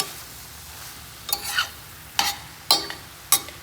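Vegetables and carrots cooking on a stovetop pan for a quinoa dinner, with a steady low sizzle broken by four sharp scraping stirs spaced about a second apart, close and clear with no talking.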